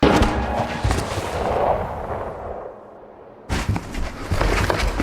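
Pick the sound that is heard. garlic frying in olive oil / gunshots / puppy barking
gunshots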